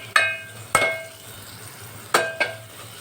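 Red chili powder mixture for fodniche varan being stirred in a pan, with four sharp metallic spoon clacks at uneven intervals over a faint low sizzle, close by and with no voices.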